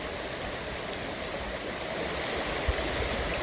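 A river flowing steadily, a continuous soft wash of water with no breaks, fairly faint and with no voices.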